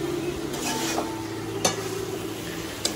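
Yogurt-marinated meat stir-fried in a pan at home, a steady sizzle with scraping stirs and two sharp utensil knocks against the pan, close and with no talking.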